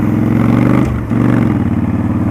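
A Yamaha Stryker motorcycle rolling slowly, its engine a close, steady mid-pitched throb that briefly dips in the middle before resuming an even, pulsing idle-like rhythm.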